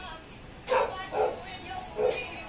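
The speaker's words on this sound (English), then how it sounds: "she is going to bark and let them know" A dog gives a few sharp barks in quick succession, moderately close, with short gaps between them.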